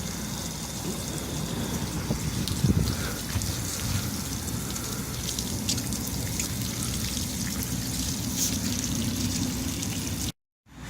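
Water from a hose splashes over a box fan being rinsed clean, a constant loud rush and spatter lasting about ten seconds, then cutting out abruptly.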